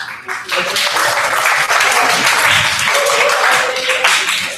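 A town hall audience claps together for a man named Reggie, a sustained burst of applause that swells and holds steady near the listener, with a few voices briefly mixed into the noise.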